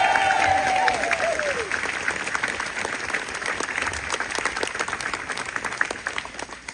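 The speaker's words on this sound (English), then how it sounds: "I'd like you to give him a massive round of applause." An audience gives a sustained round of applause at a talk, dense even clapping from a crowd filling the room steadily from start to finish, with a brief voice at the very beginning.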